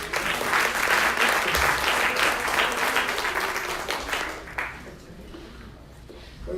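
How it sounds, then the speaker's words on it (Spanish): Audience in a church applauds a newly introduced bass player, a steady broad clapping that is loud at first, then thins out and fades toward the end. "Denle un aplauso."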